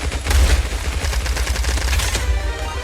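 Rapid gunfire in the shooter game Pixel Gun 2, a loud, dense burst of repeated shots with a heavy low thump, strongest at the start and continuing steadily throughout, no talk.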